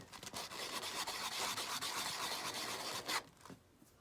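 Hand sanding of a wood burr used for opal carving, a close, quiet rasping rub in quick repeated strokes that fades out near the end.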